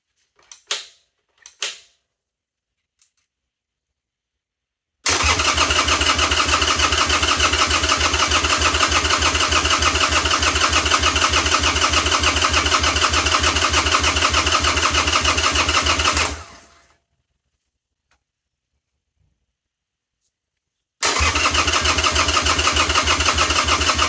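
A 2001 Harley Sportster 883 rebuilt after disassembly cranks for about eleven seconds in a loud, steady mechanical churn without catching. A few light clicks come first, then a pause, then the starter cranks again.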